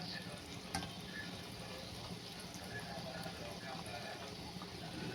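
Layered khaja sweets frying slowly in oil over a low gas flame, giving a steady, even sizzle that runs the whole time, with talking over it.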